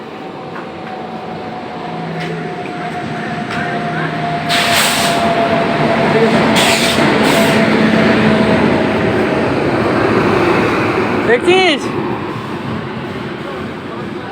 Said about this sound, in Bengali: আরেকটা ট্রেন আসতেছে এই দেখ